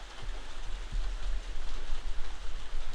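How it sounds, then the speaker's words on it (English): Steady Florida rain falls and patters on surfaces in an even, dense wash of noise with no voices, fairly loud and continuous outdoors. "good old Florida rain"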